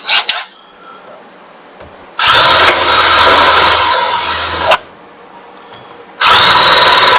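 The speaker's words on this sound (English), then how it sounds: "let's get our little deburring tool here" Power deburring tool working a metal part on a Hustle Raptor mower, two sustained buzzing runs of a couple of seconds each with a quiet pause between and a third starting at the end.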